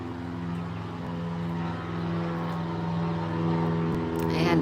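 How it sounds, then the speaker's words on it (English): A plane passes overhead, a steady low droning engine hum that builds slightly and holds loud and near throughout. "We have another plane overhead"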